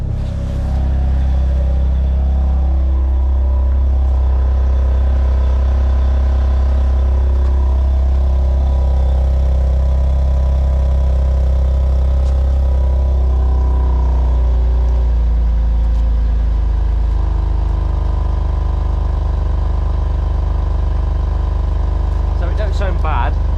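A car engine idles with a steady low rumble after a cold start in Sport Plus mode, fairly close and continuous, with slight shifts in pitch and a voice speaking over it.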